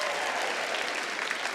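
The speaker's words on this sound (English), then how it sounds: "Please clap your hands together." A comedy festival gala audience in Melbourne claps together, a brief, fairly soft burst of dense hand-clapping from a large crowd.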